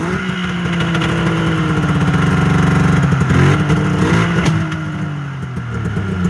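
A 2001 Yamaha Venture 600 triple snowmobile, cold after sitting, runs loud and close, its engine revving up and settling with rough, uneven firing and slight backfiring throughout.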